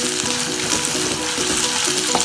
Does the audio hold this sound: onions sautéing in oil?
yes